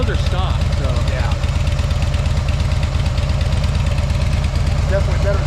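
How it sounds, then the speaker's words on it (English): A 2021 Harley-Davidson Road Glide with its stock exhaust idles close by, a deep, loping rumble with a steady uneven pulse that runs throughout, with brief voices in the background. "It's definitely better sounding than most stock exhaust I've heard."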